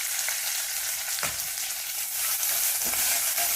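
Onions frying in hot oil for vermicelli upma: a dense, close crackling sizzle with a couple of scraping stirs of a ladle, loud and steady with no speech.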